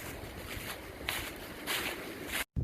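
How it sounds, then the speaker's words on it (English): Wind gusting along a wooded ridge during a hike, a rushing broadband roar that swells in several gusts over a couple of seconds and buffets the microphone, with no talking. "That wind still going to town."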